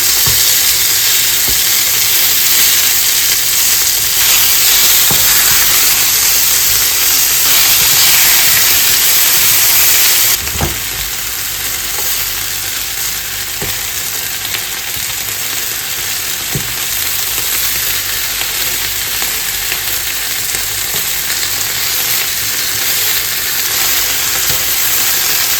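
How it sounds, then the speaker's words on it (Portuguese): Fresh garlic fries in a pan, a loud, constant hissing sizzle that drops slightly in level after a clatter of turning the pieces over, with occasional soft taps of a utensil. "Agora eu vou dar uma virada para fritar do outro lado."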